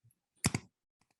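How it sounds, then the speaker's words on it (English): A few close key presses sound on a computer keyboard: a brief cluster of clicks, then two faint taps, with no talking. "I can type options in here."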